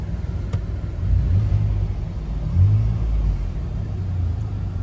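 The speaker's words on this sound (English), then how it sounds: "No check engine lights, the vehicle is running." A 2020 Ford Expedition Limited idles steadily with a low engine rumble, close by, with slight swells in level and no talk over it.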